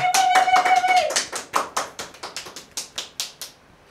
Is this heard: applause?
yes